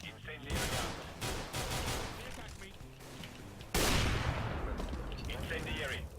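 Gunfire and the burst of a thrown incendiary grenade fill a Counter-Strike: Global Offensive round on the Cache map, with repeated sharp bangs and a loud blast partway through, while players call out over the action.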